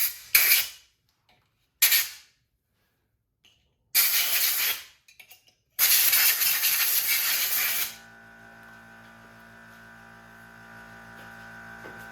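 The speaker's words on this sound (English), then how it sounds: "So we'll blow out a little dust, just make sure there's nothing before I pull the spark plugs out." Compressed air blasting dust off a 1973 Kawasaki H1 motorcycle engine: several short hissing bursts with gaps between them, then one longer blast of about two seconds, followed by a quiet low hum.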